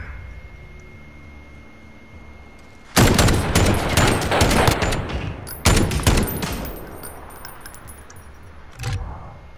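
Two loud bursts of rapid gunfire in Call of Duty: Modern Warfare, each lasting a few seconds with a short gap between, followed by a single fainter shot after a quiet lead-in.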